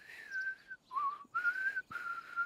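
A person whistles a clear tune in several sustained phrases with short breaks between them, close and fairly loud, with no talking.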